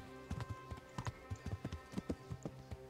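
A horse in the Kingdom Come: Deliverance video game clip-clops along at a steady gait, its hoof strikes close and crisp in an uneven rhythm, with no talking.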